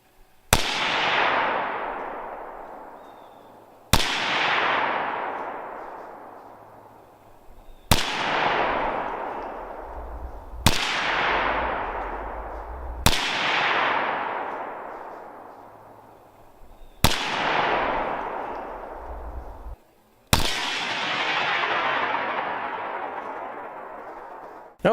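Seven loud, widely spaced rifle shots from an AK firing 7.62x39 rounds at zombie targets, each a sharp crack followed by a long echoing decay, close and alone with no talk.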